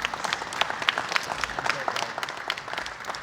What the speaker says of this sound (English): round of applause for the mechanical team